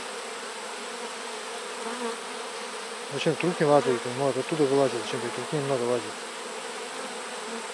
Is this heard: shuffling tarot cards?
no